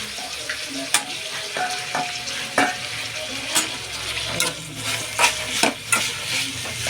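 Potatoes and matki sizzle steadily in a pan on a gas stove, with a utensil stirring and scraping at intervals; close and continuous, no talking.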